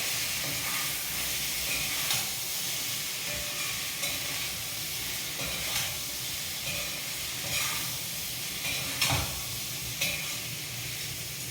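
Rice flour dumplings for a Ganesh Chaturthi offering cooking in a pan, giving a steady close sizzle and hiss of frying with occasional stirring scrapes, no talking.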